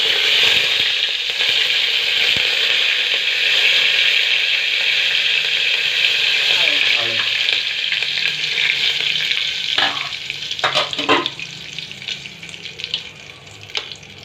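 Spices and curry leaves crackle and sizzle loudly in hot oil for bhogi bhaji, a dense continuous frying hiss close up, with a few clanks of a utensil near the end.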